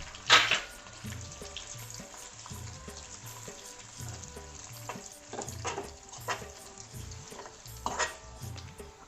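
Sesame seeds tipped into a hot frying pan with garlic and poppy seeds give a steady close sizzle and crackle, with a few sharp spikes as they land and get stirred, with no voices.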